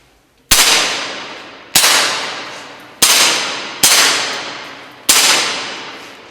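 Five sharp, loud cracks of air gun shots at an indoor shooting range in Ternopil, each followed by a brief decaying echo, spaced roughly a second apart in a quiet space.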